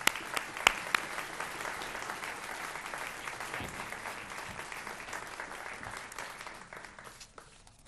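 Audience in a lecture hall applauding a guest speaker, steady sustained clapping from a sizeable crowd that gradually tapers off near the end.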